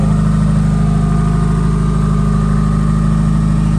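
An 850 hp K24-swapped Porsche 911 engine drones at a steady, loud, low pitch from inside the car, with no change in revs and no talk over it.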